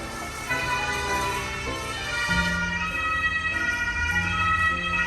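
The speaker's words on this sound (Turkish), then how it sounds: "Ambulans geçiyor." An ambulance siren wails steadily with a shifting pitch as it passes, loud and close, with traffic rumble underneath.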